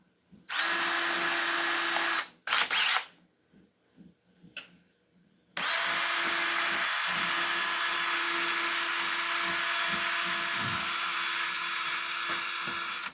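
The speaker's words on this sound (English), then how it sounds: "Have to drill another pilot hole." A power drill whines at high speed, stops, gives a couple of short bursts, then runs for a long steady stretch, bit grinding into wood while drilling a pilot hole.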